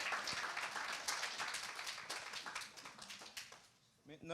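A church congregation applauds and cheers for a pastor, a dense, steady wash of clapping filling the hall for several seconds before fading out near the end as a voice begins.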